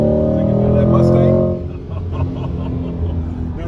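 A 2020 Chevrolet C8 Corvette Stingray mid-engine sports car accelerating hard, a loud rising engine roar that peaks, then drops abruptly to a lower rumble with shifting tones.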